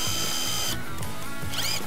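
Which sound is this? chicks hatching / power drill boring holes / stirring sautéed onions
power drill boring holes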